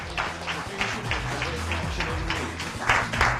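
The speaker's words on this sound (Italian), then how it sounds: "Fateci un applauso a questo ragazzo." Crowd applause at a Master Cross Selle SMP cyclocross race in Brugherio, honouring a rider: a steady patter of many hands clapping at moderate distance, with a voice speaking over it at times.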